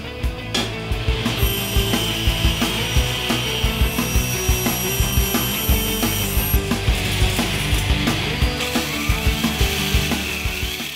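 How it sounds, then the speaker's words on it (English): A table saw with its blade turned around rips through a sheet of plexiglass for a top bar beehive, giving a loud, steady whine with a rapid rhythmic pulsing throughout, and no voices. "I'll use the table saw to cut the plexiglass"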